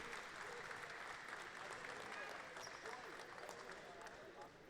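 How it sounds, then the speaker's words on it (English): Basketball crowd at a FIBA U18 Americas quarter-final between Dominican Republic and Argentina applauding an injured player being put on a stretcher, a dense, continuous round of clapping filling the arena with murmuring voices mixed in throughout. "he's going to be put on the stretcher now, getting a round of applause from the fans"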